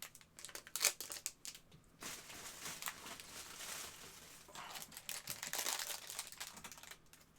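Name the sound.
crinkling Lego plastic bag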